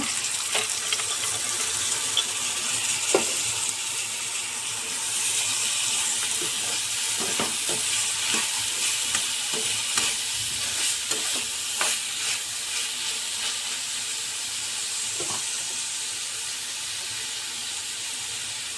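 Soaked chana dal lands in a pan of softened tomatoes and sizzles steadily at moderate loudness, with scattered scrapes and taps of a spatula stirring throughout and no voices.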